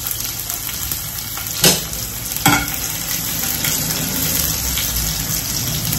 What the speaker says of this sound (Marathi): लसूण मस्त फ्राय होऊ द्यायचा एकदम